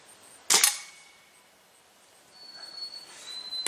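A single sharp shot from a Stoeger A30 air rifle during outdoor accuracy testing, a brief crisp crack near the start followed by quiet ambient background and a faint tonal whine.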